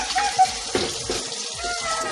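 Kitchen sink tap left running, water splashing and filling the basin in a steady broadband wash with a few brief clunks, fairly close and continuous with no talking.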